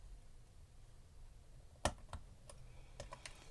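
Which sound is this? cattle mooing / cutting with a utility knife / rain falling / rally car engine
cutting with a utility knife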